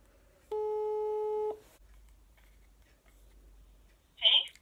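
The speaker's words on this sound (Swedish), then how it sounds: "lånar jag min mammas mobil för att ringa" A mobile phone call tone: one steady electronic tone lasting about a second, clear and close, followed by quiet line hiss and a brief burst at the end.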